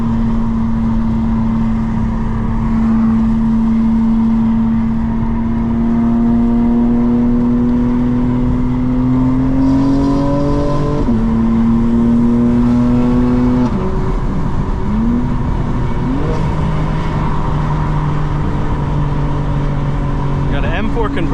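A 2025 BMW M4 Competition xDrive with a ZF automatic transmission and XHP tune pulls hard through its gears, including a 4th-to-3rd downshift. The engine drone is loud and steady with rising pitch sweeps and shift breaks, and a voice talks over it.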